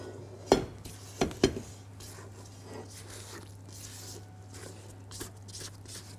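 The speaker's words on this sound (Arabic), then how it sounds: "هنقلب آخر مرة عشان نتأكد إن كل حاجة اختلطت مع بعض." Spoon scrapes and stirs through thick brownie batter studded with chocolate chips in a bowl, giving a few distinct clinks against the rim early on, then soft stirring under a steady low hum, without talking.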